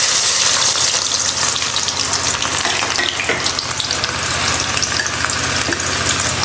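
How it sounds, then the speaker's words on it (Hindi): Onions frying in a pan at home beside cooking rice, a steady loud sizzle with light stirring and scraping throughout, no voices. "यहाँ पर मैं अभी ये वाली ऑनियन फ्राई कर रही हूँ"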